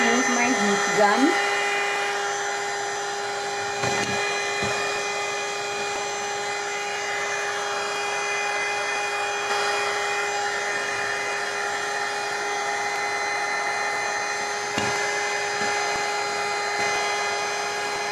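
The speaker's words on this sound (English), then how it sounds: "Now very quickly I'm going to use my heat gun." A heat gun blows hot air onto a coaster made with modelling paste and an image transfer, a continuous close whooshing drone that runs the whole time, with a brief voice at the start.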